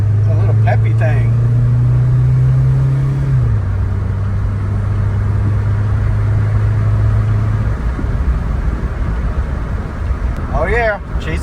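A Scion xB, revived after sitting idle for at least three years, pulls away with a loud engine drone that shifts pitch as it gets moving, steady and close for the whole stretch, with brief voices near the start and end.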